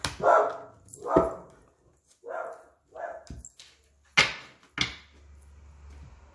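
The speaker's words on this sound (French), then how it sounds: "j'ai mon chien de garde qui s'excite un petit peu" A guard dog barks excitedly in a series of loud, separate bursts, a few barks spaced out and then two sharper ones near the end, with no talk over them.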